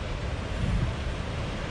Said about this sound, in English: with all these waves